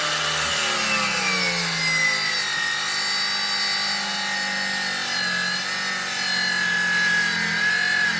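A rubber radiator hose on a 1955 Chevrolet is cut in a shop, producing a continuous, close, grinding whir with steady drifting tones that runs unbroken for several seconds.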